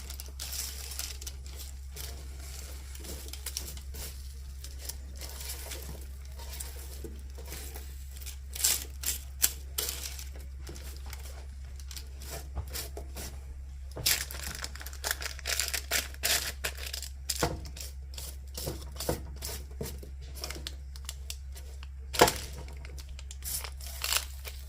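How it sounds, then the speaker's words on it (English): Vegetables softening in a pan being stirred, with scattered scraping and clattering bursts over a steady low hum, fairly quiet and close. "Okay, so the vegetables, I'm going to give them a little stir."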